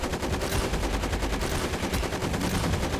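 Bombing an enemy base in the Trench Assault war game: dense, rapid, continuous gunfire and machine-gun bursts, loud and sustained with no talk.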